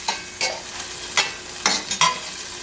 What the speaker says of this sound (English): We just kind of want to stir it around and saute it.